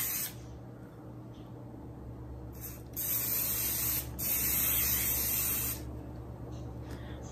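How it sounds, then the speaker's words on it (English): Aussie hairspray is sprayed onto the top of styled, curled hair in several short, hissing bursts at close range, separated by brief pauses over a quiet background. "Hairspray also to the top part"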